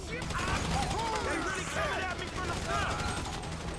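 Gunfire in the video game GTA V, a rapid crackle of shots under continuous excited talk, fairly faint and mixed with other game noise.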